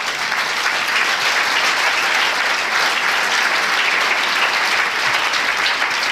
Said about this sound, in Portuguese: Aplaude a Deus pela vida de Pedro.